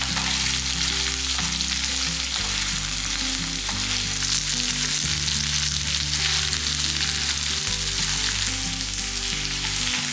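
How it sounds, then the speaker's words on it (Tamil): Okra pieces sautéing in a pan for chutney, giving a steady, dense, loud sizzle that carries on without a break across the whole stretch, with a faint low hum underneath and no talking. "அப்போ வந்து வதக்கும் போது நல்லா அந்த ஈரத்தன்மை எல்லாமே எடுத்துரும்."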